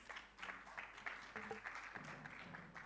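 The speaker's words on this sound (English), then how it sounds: "A round of applause as he comes." Audience applause at a diplomatic awards ceremony in Kenya, steady clapping throughout as an honoree walks to the podium, with a voice briefly audible beneath it.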